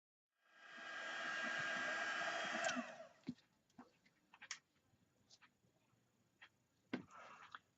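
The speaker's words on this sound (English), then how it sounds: "I'm going to use our heat tool again to kind of dry up the white" A heat tool dries white paint on a handmade card with a steady whirring blast for about two and a half seconds. It then cuts off, leaving faint clicks and handling noises in a quiet room.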